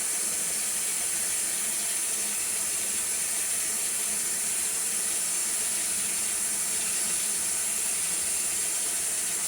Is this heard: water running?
yes